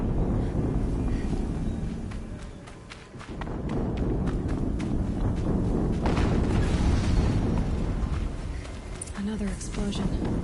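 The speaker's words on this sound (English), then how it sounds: "Another explosion." Explosions in a tank combat video game with a rotating turret: loud broadband blasts and rumbling booms recur over a noisy battle backdrop, with a brief lull around the third second.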